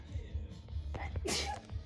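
A single sharp sneeze bursts out midway through a quiet, low background hum, with faint soft sounds before it.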